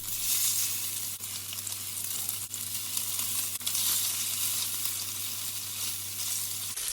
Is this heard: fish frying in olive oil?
yes